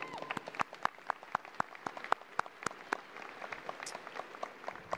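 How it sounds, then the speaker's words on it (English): Applause rises from the audience at The Colony High School's 2021 graduation ceremony, a thin, scattered clapping with a few loud, sharp claps standing out over a quieter crowd. "Let's give them a round of applause."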